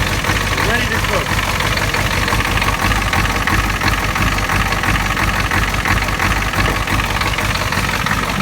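An old car engine idles while warming up, giving a loud, close, steady rumbling drone with a faint knocking pulse that stays constant throughout.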